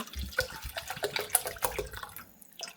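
Water poured over washed rice and lentils with oil and turmeric in a cooking pot for khichuri, a soft, close splashing and trickling pour lasting a couple of seconds at low volume.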